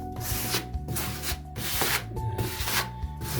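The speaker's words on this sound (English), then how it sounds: "Just gonna wipe off the excess." A tool wipes excess joint compound off a California-style drywall patch in a rapid series of rough scraping strokes, close up and fairly loud, with no talking.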